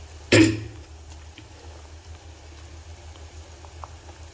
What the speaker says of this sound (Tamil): நல்லாவே மீன் போட்டுமே கொதிக்க ஆரம்பிச்சிருச்சு